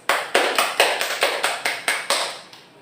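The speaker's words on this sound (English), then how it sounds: "So please give the group 1 a round of applause, please" Short burst of group applause for a classroom team, about a dozen sharp, evenly spaced claps close to the microphone, fading out at the end.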